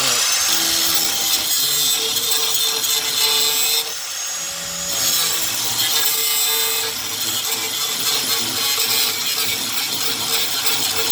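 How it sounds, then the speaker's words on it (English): Grinder working on a patch repair, a loud continuous abrasive whine and rasp that dips briefly as the tool shifts position, then resumes, close by with no talking. "Let's see if we can get the grinder in there a little more."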